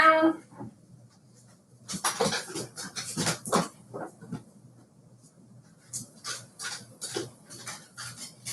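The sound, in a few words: dogs being let in from the rain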